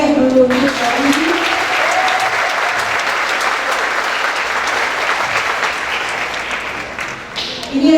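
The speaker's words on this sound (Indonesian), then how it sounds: "Kita beri tepuk tangan meriah dulu untuk Pak Dodi." A large audience at a Bank Indonesia teaching program event breaks into loud, sustained applause for the Deputy Governor Dodi Budi Waluyo, a dense wash of clapping that holds steady before tapering at the end.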